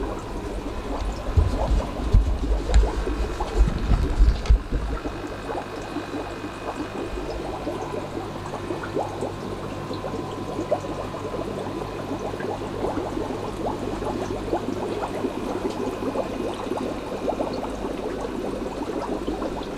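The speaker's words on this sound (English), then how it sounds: "Oh yes, we have a lot of bubbles." Many air bubbles from a central air system stream through aquarium water in a fish room, a constant close fizzing and gurgling with a louder churning burst near the start, then a steady bubbling wash.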